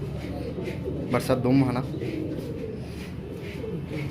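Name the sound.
pigeons cooing at Lahore pigeon market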